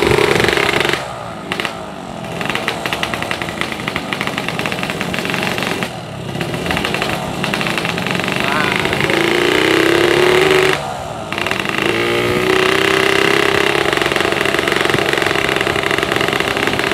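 A Mazpur drag racing motorcycle built by Bosdom Racing rides along a street, its engine loud and rough throughout, with throttle dips and pitch rises as it accelerates.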